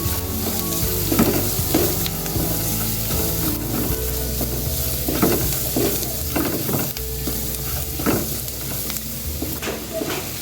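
Minced meat seasoned with white pepper powder and salt sizzles steadily in a pan. Repeated scraping stirs break through at an irregular rhythm, loud and close, with no talking.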